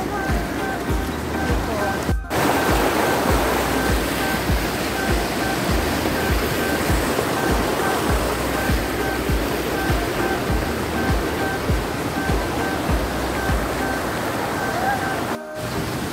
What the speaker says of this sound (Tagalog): Kapag malalaki yung alon sa ilog, agos pala.